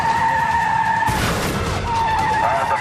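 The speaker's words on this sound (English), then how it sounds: "With a shredded tire, the boys hop over another curb and roll into a parked car." Car with a shredded tire in a police chase in Keego Harbor, Michigan, skidding with a steady squeal, then a loud broadband crash and scrape as it rolls into a parked car, followed by further squealing.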